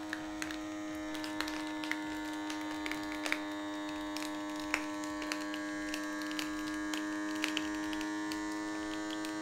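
A vacuum pump drawing air out of a reusable storage bag that holds 3D printer filament: a steady, close electric hum with a buzzing drone and small clicks and ticks scattered through it.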